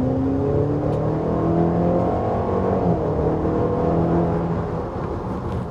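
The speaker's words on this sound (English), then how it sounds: "The engine actually sounds pretty good." Turbocharged four-cylinder engine of a 2024 Cadillac XT4 Sport AWD pulling hard under acceleration, a continuous rising drone heard from inside the cabin, steady and fairly loud before easing slightly at the end.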